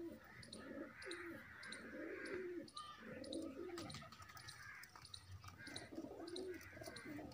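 Several household pigeons coo repeatedly in overlapping, throaty phrases close by, with light chirping and a brief hint of wing flutter amid steady background hiss.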